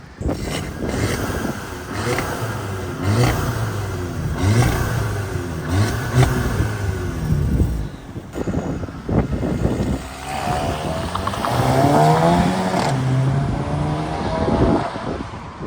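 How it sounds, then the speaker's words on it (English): Engine revving in repeated bursts with a rising turbo whistle and spooling hiss, fairly close, no voices, from a 2015 Audi A3 (8V) with a catless downpipe and DSG gearbox. "We got some turbo whistle out of the downpipe"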